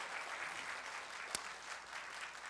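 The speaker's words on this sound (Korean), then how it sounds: "다시 한번 큰 박수를 부탁드리겠습니다." An audience at a museum talk concert, held at the Gyeonggi Provincial Museum during a film festival, gives soft, steady applause heard from a distance, with one sharp click partway through.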